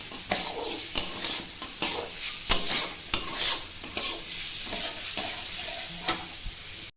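Onions stir-fried with a small amount of meat in a pan, a loud continuous sizzle broken by repeated sharp scrapes and clacks of a spatula against the pan, fairly close and with no talking.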